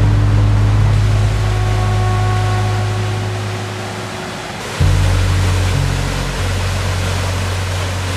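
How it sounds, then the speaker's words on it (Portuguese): Waterfalls on the Carabinani river in Jaú National Park, Amazon, heard as a loud, steady roar of rushing water with a low engine-like drone underneath, briefly shifting midway. "o Carabinani apresenta saltos impressionantes, que só podem ser observados nesta época."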